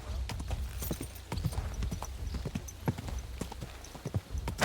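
A horse's hooves clip-clop in Kingdom Come: Deliverance II, a string of sharp, close hoof strikes in an uneven trotting rhythm over a quiet background.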